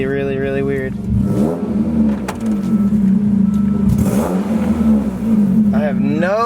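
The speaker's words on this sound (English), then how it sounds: "I heard my turbo like spool and then nothing happened." A Mitsubishi Evo X fitted with mufflers revs loud and close as its turbo tries to spool but fails, the engine surging and dropping back to an uneven idle, with a person talking over it.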